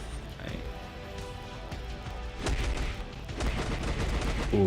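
Sentry Strike, a barrage skill in the mobile game Marvel Future Fight, fires off a rapid rattle of blasts that grows denser and louder toward the end, with game sounds layered over it and a voice talking.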